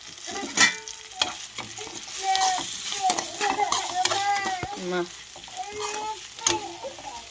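Vegetables fry and get stirred with coriander in a pan, a soft sizzle punctuated by spatula scrapes and clinks, with children's voices and talk in the background.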